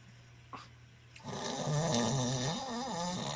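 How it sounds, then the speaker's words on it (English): A sleeping man snores, a low rough droning rattle that swells and wavers after a brief quiet start, close and fairly steady with no speech. "I heard him snore."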